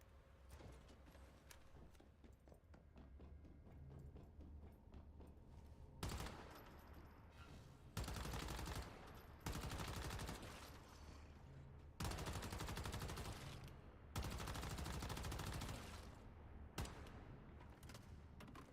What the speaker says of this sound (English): The damage output on this fast gunner is honestly kind of insane.